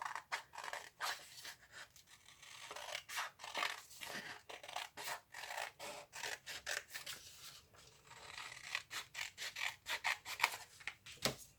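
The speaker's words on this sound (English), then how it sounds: "If you fold it in half and then cut out a rectangle shape, it will create a simple frame for you." Scissors snip through folded paper to cut out a rectangle, a quick run of dry, rasping cuts in uneven bursts, close and fairly quiet, with no talking.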